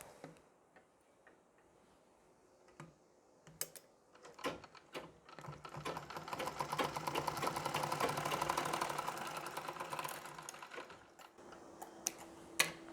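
A sewing machine stitches pleats on a Nauvari saree, starting with a few scattered clicks before a steady run of rapid needle ticking that swells and fades, followed by a couple of sharp knocks; close and fairly quiet, no talking.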